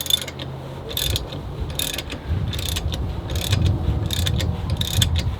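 Steady ratcheting clicks from a wrench turning a harmonic balancer puller on a Ford Galaxie engine, close and continuous in repeated bursts of rapid pawl clicks with no talk.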